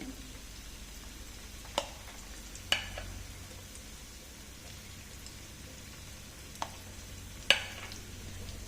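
Coconut sweets frying undisturbed in hot oil, a soft steady bubbling hiss with a few sharp isolated pops and crackles, no voices.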